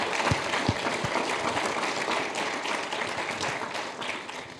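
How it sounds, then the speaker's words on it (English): An audience applauding Bragg Group at The Bragg Exchange 2026, a dense, steady round of clapping with a few sharper claps near the start, tapering slightly toward the end. "So please, can we just have a round of applause for Bragg Group."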